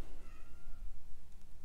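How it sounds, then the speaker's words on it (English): A hungry cat gives a short, faint meow in a quiet room, brief and somewhat distant, with low background noise around it. "Sounds like the cat's hungry."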